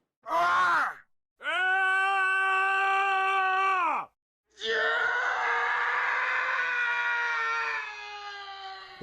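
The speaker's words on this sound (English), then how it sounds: "I know what a man sounds like when he's screaming." A man screams as a sound effect in three loud, sustained bursts, a short cry followed by two long strained yells with a brief pause between each, close and alone.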